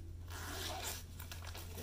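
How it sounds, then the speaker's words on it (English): A zipper being run along a hanging toiletry bag, about 16.5 inches long with a clear compartment: a steady, close, faint rasping slide lasting a couple of seconds, heard alone. "It zips well."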